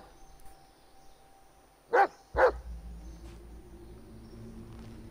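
Two sharp dog barks a fraction of a second apart from a dog companion in the horror game Blair Witch, fairly close, over a low ambient rumble and faint background hum.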